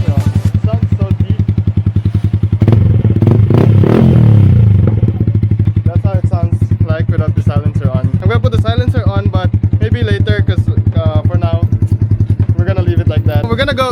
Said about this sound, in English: here is the Akrapovic exhaust without the silencer on